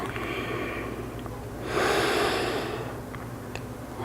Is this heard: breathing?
yes